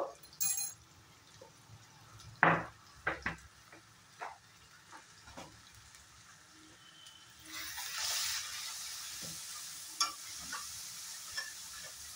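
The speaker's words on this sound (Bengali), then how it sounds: "এখন এই জিনিসগুলো আমি খুব সুন্দর করে ফ্রাই করে নেব।" Mushrooms fry in a pan with scattered stirring scrapes and clinks of a utensil early on, then a louder, steady sizzle takes over for the last few seconds, close and with no talking.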